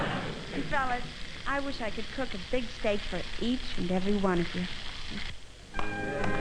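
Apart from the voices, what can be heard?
porterhouse steak sizzling in a frying pan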